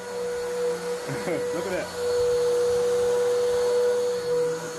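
A vacuum cleaner pulls up dry soil inside a house, a steady loud whine running nearly throughout with brief rattling pickup sounds, while a person speaks briefly over it.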